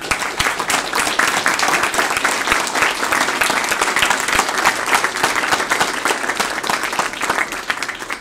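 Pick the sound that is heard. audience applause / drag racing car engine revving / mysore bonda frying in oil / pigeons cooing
audience applause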